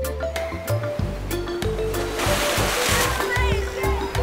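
Waves and splashing seawater on a shore, irregular sloshes and surf washes close by, with a voice and other sounds mixed in and a rushing swell in the middle.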